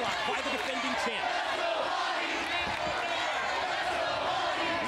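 A wrestling arena crowd at a pay-per-view event cheers and chants loudly for Monty Brown, a dense sustained roar with rhythmic yelling, while a commentator talks over it.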